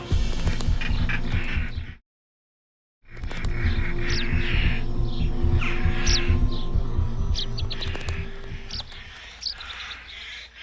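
European rollers and their chicks, nesting in the cracks of a centuries-old abandoned farmhouse, give repeated short chirps and calls over a dense, busy outdoor background, with a brief gap of silence early on.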